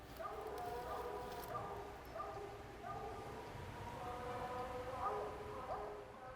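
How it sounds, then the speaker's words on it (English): Distant hunting hounds bark in a steady rhythmic chop at a tree, the repeated barks faint and echoing through open woods. "Hear the difference? That's Ground's tree bark."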